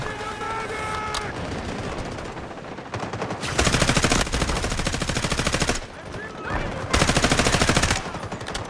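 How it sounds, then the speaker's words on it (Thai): M4A1 rifle fire in the shooter Delta Force during close-quarters combat, long loud bursts of rapid automatic shots with brief gaps, over constant background game noise and a voice talking early on. "ยิงฟรีจากตรงนี้แหละ"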